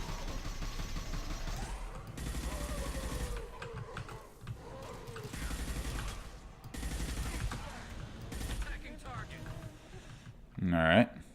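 Rapid automatic gunfire rattles in repeated bursts against husks in Mass Effect 2, dense and steady under a talking voice, ending in a sharp swelling effect.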